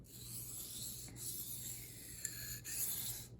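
Steel blade rubbed back and forth on the coarse 800 grit side of a generic waterstone, a soft, steady gritty rasp with faint scraping strokes, quiet and close with no talk.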